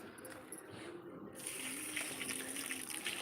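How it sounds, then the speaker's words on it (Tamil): Water poured onto potted plants at home, a steady soft gush that starts faint and swells into a fuller splashing stream partway through. "எல்லா தண்ணியும் செடிக்கு ஊற்ற வேண்டியதான்"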